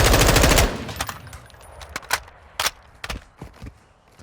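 Rapid automatic gunfire from a rifle in Modern Warfare 2, a loud continuous burst of rounds at the start, followed by scattered sharp single shots and clanks.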